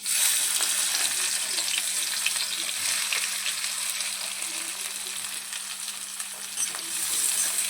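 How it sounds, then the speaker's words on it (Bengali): Chopped capsicum frying in ghee in a pan, with a loud, steady sizzle throughout and faint stirring beneath it; no talk. "ক্যাপসিকামটা ভালো করে একটু ভেজে নেব, খুব বেশি ভাজবো না।"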